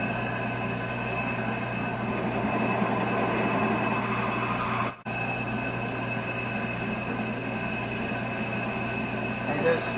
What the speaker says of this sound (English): let's go ahead and try to drill this out a little more here